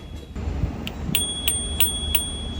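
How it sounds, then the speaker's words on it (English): A bicycle bell rings clearly and close by, a quick series of bright metallic dings at an even pace after a short quiet moment. "I like the bell."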